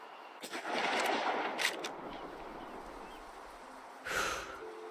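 A hunting rifle fires in the video game Way of the Hunter: one sharp shot rings out, then breathy noise and a second burst of noise trail off, close and moderately loud, with no talking.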